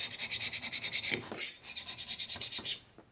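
A hand pushing tool scrapes old gasket residue off a 1200 Sportster motorcycle cylinder head, a run of quick rhythmic rasping strokes up close, then a pause and a second burst of scraping.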